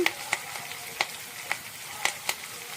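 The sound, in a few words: curry leaves crackling in hot oil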